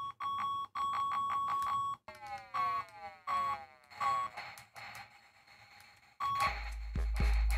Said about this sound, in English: There's a really annoying beeping noise.